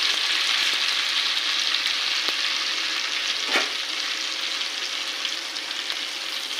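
Shahi jeera sizzles in hot oil in a pan while making restaurant-style paneer butter masala, a continuous close frying hiss with a few faint clinks of stirring and no speech.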